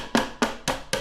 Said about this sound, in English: We're gonna grab the small hammer and just